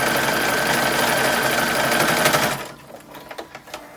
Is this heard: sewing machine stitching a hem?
yes